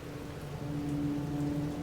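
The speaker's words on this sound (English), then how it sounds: "The rain is nice, I have to say." Steady rainfall in a Silent Hill 2 game scene, a soft continuous patter with a low droning hum underneath, no voices.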